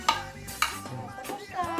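Vegetables being sautéed in a pan, with scraping strokes and clinks of a utensil against metal over a soft sizzle, close by.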